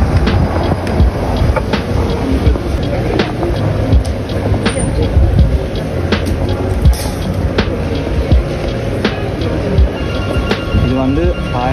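A metro train passes through the Jourdain station in Paris, a steady low rumble with faint rail clatter running throughout, fairly close and continuous.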